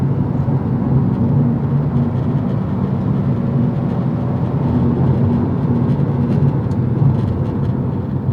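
A 2021 Subaru WRX STI driven under throttle, a loud continuous engine drone with steady low rumble and road noise from inside the car, no talking.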